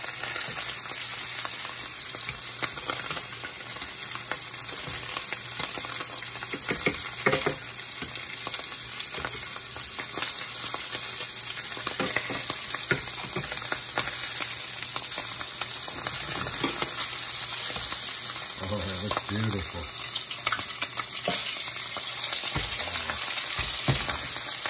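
Salmon fillets sear in a hot pan as a steady, dense sizzle, with occasional louder crackles and a few soft scraping sounds from turning the fish, continuous and close for the whole stretch.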